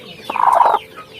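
A free-range village hen brooding her eggs gives a short, loud, drawn-out cluck close by, alone and without talk.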